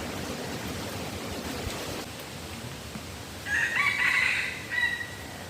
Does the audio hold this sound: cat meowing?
no